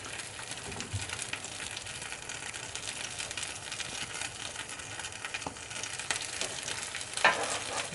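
A beef and cheese quesadilla fries in a hot pan while being pressed down, giving a steady close sizzle and crackle throughout with a few louder pops near the end.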